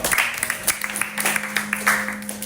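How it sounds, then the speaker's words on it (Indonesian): A class of students applauds in a classroom during a teaching exam, a brisk, uneven burst of many hands clapping close by that runs for the whole stretch without letup. "Beri aplaus."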